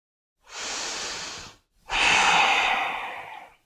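Two long, steady breaths during a yoga session at home, a smooth inhale followed by a fuller exhale after a short pause, close and clear with no talking.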